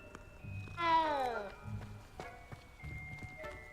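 Several short meows from a cat in a video game rise and fall over looping background music, with a faint voice talking quietly alongside.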